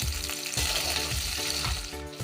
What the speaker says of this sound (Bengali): ক্যাপসিকামটা আমি হালকা ভেজে তুলে নেব